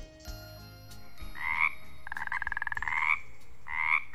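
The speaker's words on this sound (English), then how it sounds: "Did you guess a frog?" A frog croaks in a few separate bursts of rapid, rattling calls, close and clear with no talking over it.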